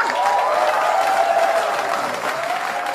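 Audience applause at a stage show as a wife is called up to the stage, a steady dense clapping with a faint held tone running through it.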